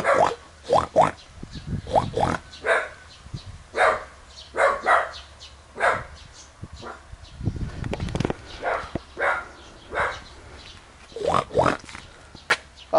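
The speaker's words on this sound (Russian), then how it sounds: "Это для тех, кто говорит, что моя собака не лает." A dog barks repeatedly at a wild boar, loud close yaps in irregular bursts across the whole stretch, with grunting snorts and low animal sounds mixed between the barks.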